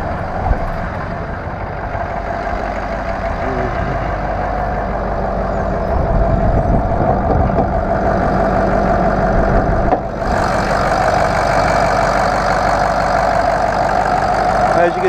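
A 2005 Ford F-350 turbo diesel pickup with a 5-speed manual idles steadily up close, a loud, even rumble with a continuous mid-range drone that lifts slightly partway through.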